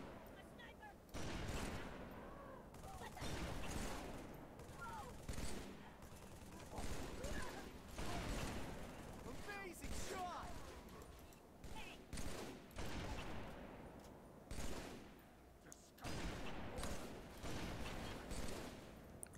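Rapid gunfire bursts and fusillades crackle through a Halo 3 fight against Brutes, loud repeated volleys separated by short gaps, with a player talking over the shooting.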